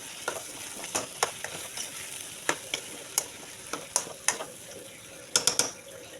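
Carrots being stirred in a pot while cooking a corned beef sopas, giving a series of sharp scraping clicks and knocks over a soft sizzle, close and moderately loud with no talk.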